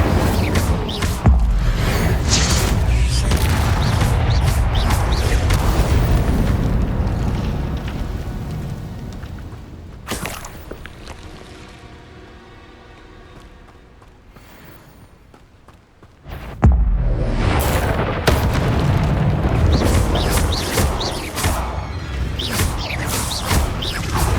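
Fire spell cast in the video game Hogwarts Legacy, with loud crackling, whooshing bursts and clattering effects, a quieter lull midway, then another loud burst of fiery, crashing noise.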